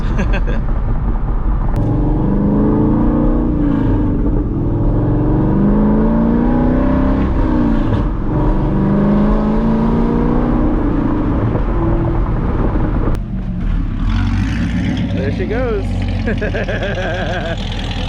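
A C6 Corvette with a manual gearbox drives along, its engine droning steadily and shifting pitch through gear changes, while people talk over it throughout.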